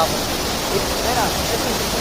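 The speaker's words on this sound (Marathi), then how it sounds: "धबधबा एकदम छोटा आहे पण एवढा भारी" A small waterfall at the foot of Rajgad fort gives a steady, close rush of falling water, unbroken across the whole short stretch.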